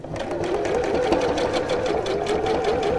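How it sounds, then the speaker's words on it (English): A domestic sewing machine runs steadily, top stitching around the curved edge of a zipped fabric pouch at a slightly lengthened stitch, giving an even, continuous mechanical whirr with a fast rhythmic needle patter, close and loud. "I'm just going to top stitch around the edge"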